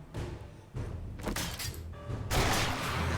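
Modded nail gun fired in 7 Days To Die during horde night, with rapid bursts of loud impact shots over dense, noisy game sound that stays loud throughout.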